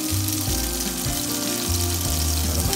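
Lurpak butter sizzles loudly in a hot pan with wagyu steak cubes and garlic, a steady crackling fry with a few low bubbling pops and no talking.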